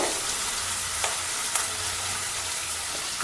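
Ingredients sautéing in a pan for Karnataka-style kara bath, a steady close sizzle of frying with a few faint stirring taps, no talking.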